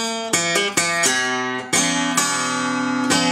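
Blues guitar lick from a blues song, a run of bright plucked notes with sharp attacks on the top string, several quick strikes ringing into one another, close and alone with no talking.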